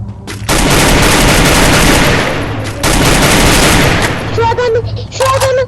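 Dense bursts of rapid automatic gunfire in a video game, loud and close, filling the clip, with a short break between bursts and a voice speaking briefly near the end.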